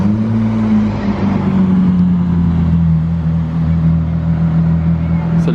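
A Bugatti Veyron Grand Sport passes with a loud, steady engine drone that slowly drops in pitch as it goes by, at a busy carspotting roadside with voices underneath.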